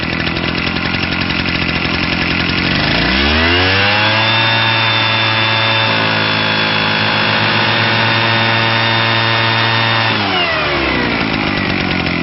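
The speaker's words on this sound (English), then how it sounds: "I have a new sound effect that I'm really excited about. It's a leaf blower." A leaf blower sound effect starts with rough idling, then winds up into a loud, steady high whine that holds for several seconds before dropping back to idle, heard alone over a phone line.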